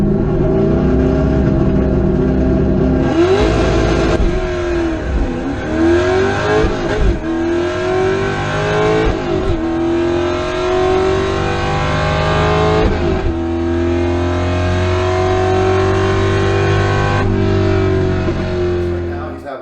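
Race car engine heard from inside the cockpit during in-car race footage, loud revving that rises and drops repeatedly through gear changes and braking, close and harsh throughout.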